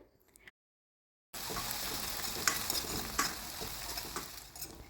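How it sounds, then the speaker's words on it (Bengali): Onion and chopped ginger frying on high flame while being stirred, a brief faint sizzle, a second of silence, then a loud steady crackle with occasional scraping knocks of the utensil against the pan. "পেঁয়াজটা ভালো করে একটু নেড়েচেড়ে নিয়ে এর মধ্যে দিয়ে দেবো আগে থেকে কুচিয়ে রাখা আদা পুরো কাজটা কিন্তু হাই ফ্লেমেই করতে হবে"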